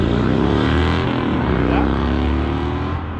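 A motorcycle takes off from a traffic light about 140 feet away, its exhaust giving a loud, continuous engine roar that climbs in pitch as it accelerates.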